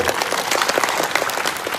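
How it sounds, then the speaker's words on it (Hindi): Loud, close applause from a church congregation, crisp clapping at a fast, steady density for the whole stretch. "फिर से एक अच्छी ताली यीशु के लिए जोर से"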